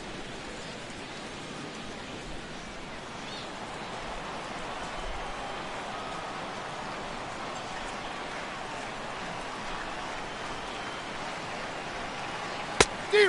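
Steady rain falls over a baseball stadium in MLB The Show 17, a dense even hiss of drops that continues throughout at moderate level, with a couple of sharp knocks near the end.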